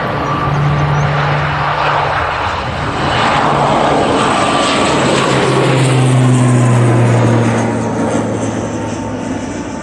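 An ATR turboprop airliner rolls along the runway at Manchester Airport, its propeller drone steady and fairly loud throughout, with a rising and falling engine tone as it passes at moderate distance.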